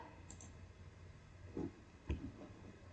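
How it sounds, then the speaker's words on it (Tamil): Two quiet computer mouse clicks while opening VS Code from a desktop, separate and soft against faint room hiss. "டெஸ்க்டாப்ல விஎஸ் கோட கிளிக் பண்ணிக்கோங்க."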